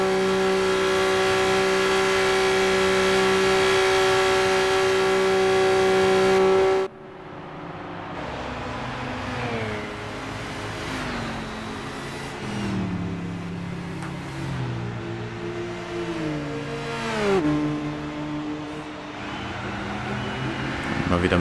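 Race car engine in Gran Turismo 6 drones loudly and steadily, then cuts to a quieter stretch of fluctuating revs and pitch sweeps as the car idles and revs again, with a voice speaking over part of it.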